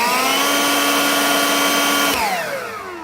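A Lynxx 40V cordless brushless leaf blower from Harbor Freight, model 63284, whines steadily at full speed with a loud, even motor tone, then the pitch starts dropping near the end as it winds down.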